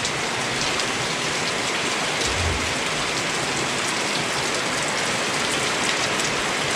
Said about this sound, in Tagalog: Kaso inaabot na naman ang ulan.